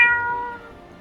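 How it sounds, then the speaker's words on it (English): A single cat meow, close and clear, heard aboard a train carriage, its tone fading quickly after the start with no talk over it. "As you are walking down your train cart, you hear a meow."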